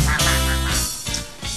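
Ducks quacking at a pond, a few quick nasal calls close by in a short burst with no talk over them.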